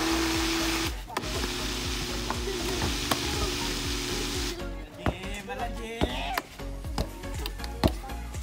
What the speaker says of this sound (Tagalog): sumuko yung blender namin